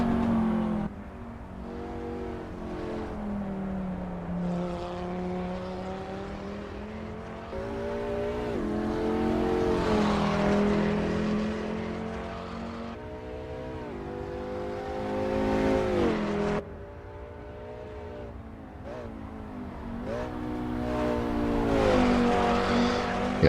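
Race car engine in Assetto Corsa Evo heard from an outside camera, sounding distant as it revs up and down through gear changes with sustained harmonic whine and occasional sharp shifts, no talking.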